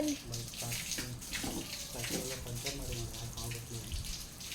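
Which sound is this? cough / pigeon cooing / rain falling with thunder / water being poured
water being poured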